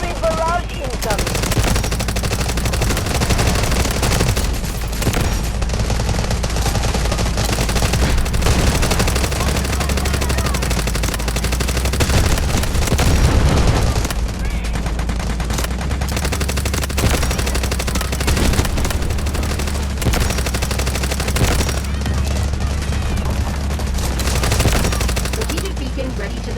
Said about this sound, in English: Requesting artillery barrage on coordinates. Over. Roger that. Artillery barrage incoming.